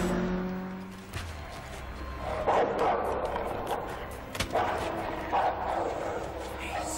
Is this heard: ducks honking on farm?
no